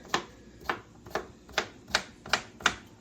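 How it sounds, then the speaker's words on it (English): A knife chops through fresh cucumbers on a cutting board, giving seven crisp, evenly spaced knocks in a steady rhythm, close and clear with no voices. "now I'm just slicing up some cucumbers"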